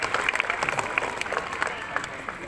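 A school class claps together, a dense burst of hand applause that fills the room and slowly thins out.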